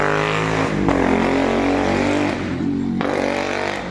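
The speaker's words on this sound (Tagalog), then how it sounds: "Saba ka ni motor diri ay makalagot sakit sa talinga." Motorcycle engine running near a school at voting time, a loud steady drone with shifting rumble that holds throughout and never drops away.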